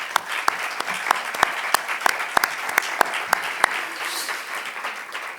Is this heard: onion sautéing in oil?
no